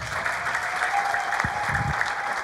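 A church congregation at a gospel service clapping together in a steady burst of applause, fairly faint and continuous with a couple of louder low thumps.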